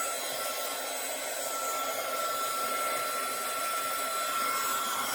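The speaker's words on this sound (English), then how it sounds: "So after you warm it up for a second, you're going to point it at your embossing powder." A craft heat tool blows very hot, direct air onto embossing powder on a condolence card, a continuous, even whoosh like a hair dryer that stays at a quiet, steady level with no talking.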